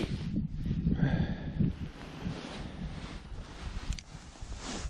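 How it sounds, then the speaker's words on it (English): Strong wind gusts across an open frozen lake during perch fishing in South Dakota, a low buffeting rush against the microphone, moderately loud at first and then steadier, with no talk. "that wind's so heavy right now"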